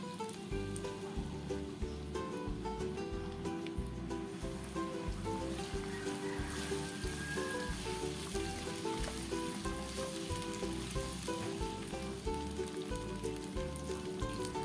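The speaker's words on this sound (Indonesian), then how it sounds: "ini sudah ada minyak juga di penggorengan. Lalu kita masukkan bumbu yang sudah di blender tadi ya." Blended spice paste sizzles steadily in hot frying oil in a wok while cilok broth is made, a dense continuous crackle and hiss throughout.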